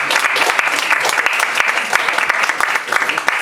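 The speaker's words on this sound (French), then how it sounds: "Applaudissez s'il vous plaît" Audience applause at a Paris inauguration event for a Haitian high council, dense and steady from a crowd of clappers, loud and close throughout the short burst with no voice over it.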